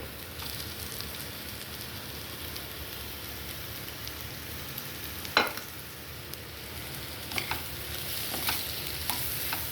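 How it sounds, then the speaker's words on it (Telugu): Egg fried rice with avakaya mango pickle fries in a pan, giving a constant soft sizzle with occasional sharp spatula taps and scrapes as it is stirred. "ఇలా కొంచెం వేగిన తర్వాత ఇందులో మనం ఆవకాయ యాడ్ చేసుకోవాలి"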